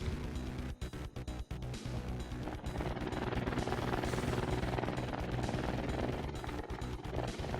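Steady, loud helicopter engine drone with a rhythmic rotor throb from the Trailmakers video game, plus a few sharp thuds and knocks early on.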